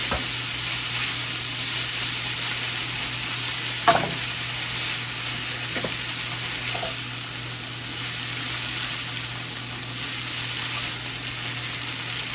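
Steady frying sizzle of noodles in a pan, a constant hiss with a few brief clinks of a fork, no talking.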